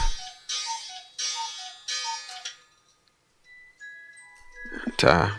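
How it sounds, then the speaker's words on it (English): An old cuckoo clock chimes in a loud, regular repeating pattern, each strike ringing out clearly, before a brief pause and a sharp clatter at the end. "there's 10 a.m. on the old cuckoo clock"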